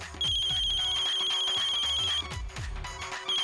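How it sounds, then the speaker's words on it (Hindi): A telephone rings with a repeating electronic trill, loud and close, cutting off briefly and then starting again. "ओए ओए किद्दो जी दा फोन"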